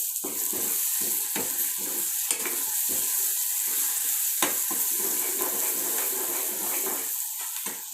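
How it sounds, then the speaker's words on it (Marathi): Chopped coriander is stirred into a hot spiced-oil tempering with coriander and cumin powder for a goat intestine fry: a steady close sizzle with repeated scraping stir strokes and no voices. "थोडीशी कोथिंबीर टाकूया फोडणीमध्ये"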